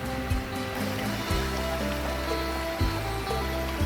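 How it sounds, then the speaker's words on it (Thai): A waterfall at Nong Bua Daeng Dhamma Park in Khemarat, Ubon Ratchathani, rushing in a steady, dense roar of falling and splashing water, close and continuous with no voices. "ฟังเสียงน้ำที่พี่น้องเสียงน้ำตก"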